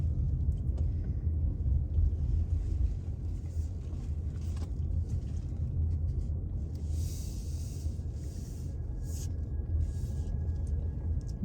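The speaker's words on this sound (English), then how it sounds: "I'm just taking a little drive here." A car drives slowly through a residential neighborhood, a low steady engine and road rumble heard from inside the cabin, continuous and fairly close with faint higher noises drifting over it.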